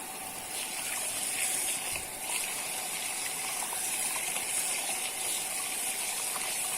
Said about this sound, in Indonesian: Walaupun pompa tidak nyala, tapi air masih mengalir sesuai settingan pressure.